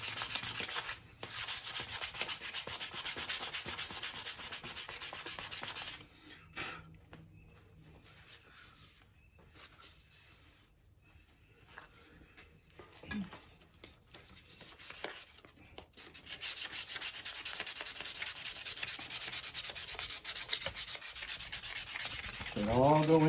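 Hand-sanding a Damascus steel katana blade to take out grinder and sanding marks: a steady, close abrasive rubbing that runs in long continuous strokes, drops off to quieter scattered scraping midway, then resumes at full strength.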